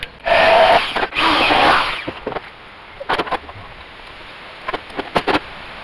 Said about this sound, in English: Drill out this side.